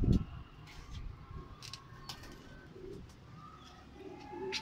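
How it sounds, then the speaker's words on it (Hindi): A pigeon coos softly and repeatedly at close range, low and throaty, with faint chirps and light background noise. "ये उसी कबूतर का भाई है"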